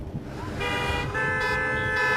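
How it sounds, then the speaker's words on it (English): Car horns from vehicles at an outdoor Chanukah gathering honk together on a count of three, several sustained overlapping toots layered over a low traffic rumble. "Everyone, on the count of 3, honk!"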